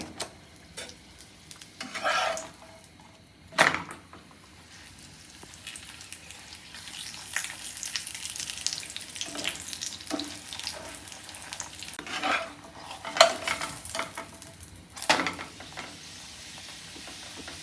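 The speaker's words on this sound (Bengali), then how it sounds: "আমি এখন পরোটার তেল দিয়ে দিব, একটু উপরে দিয়ে দিব" A hotel-style paratha frying in oil in a pan, a steady crackling sizzle broken by several sharp spatula knocks and scrapes, close and fairly loud.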